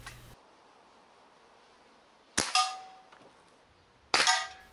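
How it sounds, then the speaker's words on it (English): Two sharp shots from an Umarex RP5 pump-action air rifle ring out seconds apart, each a loud crack with a quick double blip and metallic ringing tail, near and otherwise quiet. "Notice the distinctive double blip of the audio recording for every shot."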